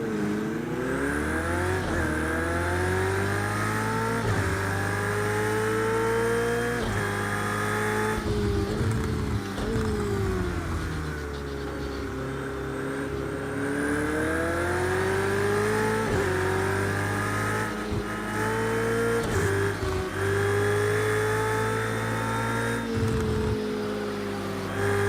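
A race car howls around a track, its engine revving hard and shifting through gears with rising and falling pitch, loud and close throughout, with a faint tire squeal.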